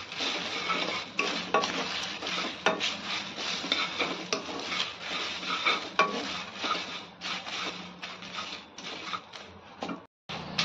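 Whole spices and coriander seeds are dry-roasted in a pan and stirred steadily, giving a continuous close scraping and rattling with brief pauses and no talking.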